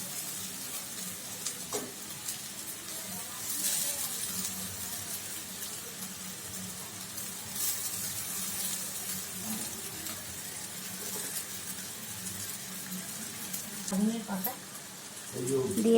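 Boiled chowmein noodles tossed into a pan of fried vegetables and rice, a continuous sizzle with scraping and stirring clatter, rising in bursts near the end.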